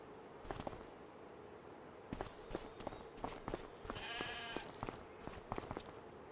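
Sheep and young lambs bleat outdoors in snow on a game farm, a few faint calls at first, then a louder, close bleating burst near the end, with soft footsteps around them.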